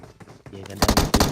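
Gunfire from a pistol in PUBG Mobile cracks out as a quick cluster of loud, close shots after a brief quieter lead-in.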